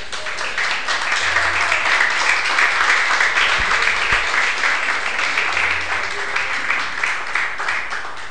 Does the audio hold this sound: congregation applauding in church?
yes